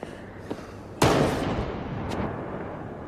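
A single sharp gunshot cracks out in a film scene, a loud sudden blast followed by a fading rumble and a faint later thump, with no voices.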